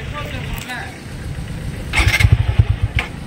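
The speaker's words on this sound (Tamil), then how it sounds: "வண்டி ஸ்டார்ட் ஆகல." A TVS Apache RTR 160 4V motorcycle cranks repeatedly with a rapid sputtering pulse but fails to start, heard close up over steady road and traffic noise.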